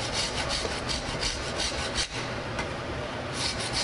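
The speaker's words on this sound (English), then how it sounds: "as I file, I am hollowing out the hacksaw cut, and I am giving the spine of the knife a set of teeth to help with grip." A hand file rasps notches into the steel spine of a custom Cold Steel Recon 1 XL tactical folding knife, a close, continuous scraping of quick repeated strokes with one brief pause and no talking.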